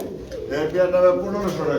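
Lahori and Sirazi pigeons cooing nearby, soft low throaty coos rising and falling, mixed with background voices at a market.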